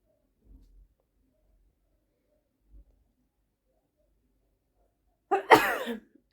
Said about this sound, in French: Je vais éternuer